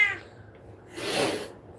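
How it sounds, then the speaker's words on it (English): A pet cat gives a brief breathy hiss after a short meow-like sound, close and fairly faint, with no talking. "He's hissing"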